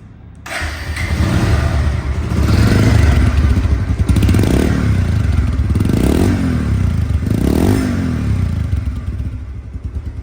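A second-hand 2023 Bajaj Pulsar DD motorcycle idles loudly up close, its engine rising in three short throttle revs before settling back to a steady idle.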